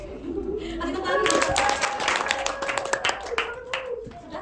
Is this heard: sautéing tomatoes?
no